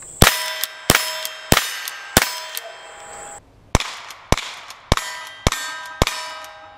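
A Henry Golden Boy .22 lever action rifle fires a quick series of about nine sharp, loud cracks with bright ringing decay, each shot spaced under a second apart with short pauses.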